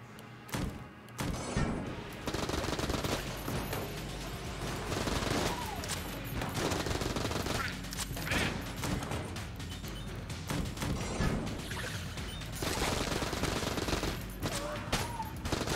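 Rapid automatic AK-47 fire in Enter the Gungeon, a dense continuous clatter of shots with thuds and impacts layered over game music, loud and steady through most of the stretch.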